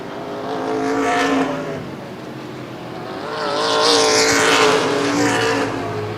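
Race cars at Baer Field Speedway in an ARCA/CRA Super Series event roar past on the oval, engines loud and rising as they pass, fading briefly and surging again.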